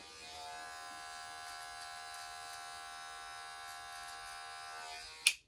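Hair clippers fitted with a one guard running steadily during a self-cut low to mid taper fade, a close, even electric buzz that ends with a brief click as the clippers shut off.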